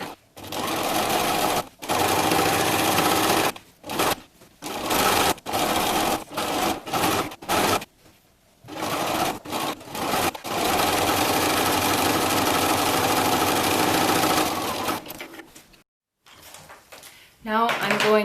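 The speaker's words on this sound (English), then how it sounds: "Then I'm going to sew along this bias binding all the way around like" Sewing machine sewing bias binding around a flamingo costume, several close bursts of whirring stitching separated by short pauses, then a long steady run before stopping.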